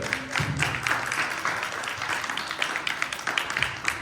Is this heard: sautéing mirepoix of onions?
no